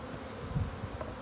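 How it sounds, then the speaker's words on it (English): Honeybees buzz around a nuc hive during installation, with a soft continuous drone close by and a few louder passes near the middle. "Wait for the bees to go down if you need to smoke them a bit"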